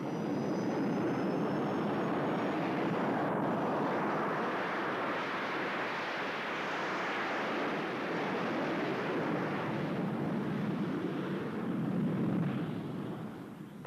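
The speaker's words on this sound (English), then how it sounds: "The jet engine moves the aeroplane forwards by pushing backwards a stream of hot gases with great" A jet aeroplane engine roars with a steady, loud, broad rushing noise that holds for the whole stretch, swelling slightly near the end before easing off.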